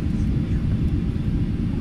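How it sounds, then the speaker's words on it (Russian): A passenger airplane landing at a New York airport gives a steady low cabin rumble and engine roar throughout, with people talking over it. "Вау, садимся, смотри, самолетики уже видны, мы садимся."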